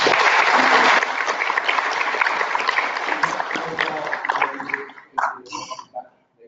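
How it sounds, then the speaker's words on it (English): Audience applause at a corporate governance talk, a dense crowd clapping loudly that thins and fades toward the end, with a few scattered voices at the close. "If you'd like to give Sadia a big round of applause"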